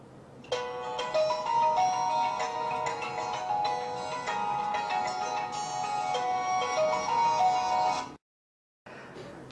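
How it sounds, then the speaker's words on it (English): Soothing nature-themed ringtone from a Samsung Galaxy S3, a steady tonal melody with layered chiming notes playing clearly and alone for about eight seconds before cutting off abruptly. "The alarms and ringtones are filled with soothing sounds of nature too."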